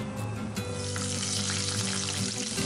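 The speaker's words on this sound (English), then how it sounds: "take a few curry leaves and fry them in oil till they are crisp" Curry leaves frying in hot oil for a Gobi 65 garnish, a loud, steady crackling sizzle that opens with a few sharp pops and settles into a continuous hiss.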